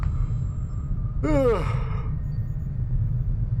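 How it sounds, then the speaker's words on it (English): A single close, breathy yawn rises and falls in pitch, lasting under a second, over a low steady background hum. "Yawn."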